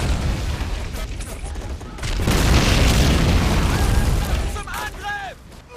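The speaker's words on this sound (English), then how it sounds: "Firing mission confirmed. Artillery strike incoming." Artillery strike explosions in the Men of War: Assault Squad video game, a loud rolling barrage of booms and blasts that builds into a dense roar, then thins out into scattered bursts, with game voices heard.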